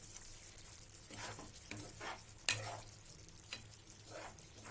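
Coriander being stirred into tomato okra frying in a pan, a low steady sizzle with soft scraping strokes of a spoon and one sharper clack midway, close and fairly quiet.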